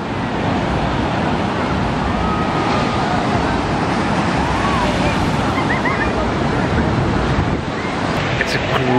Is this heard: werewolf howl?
no